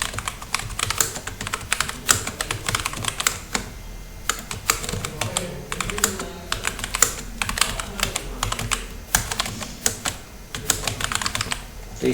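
Rapid, close clicking of keys on a computer keyboard while text is entered into a spreadsheet, continuous irregular tapping with brief pauses over about twelve seconds, and no voices.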